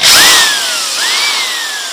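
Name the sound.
cheap Makita power drill driving a screw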